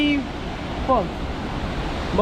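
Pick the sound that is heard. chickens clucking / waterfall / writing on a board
waterfall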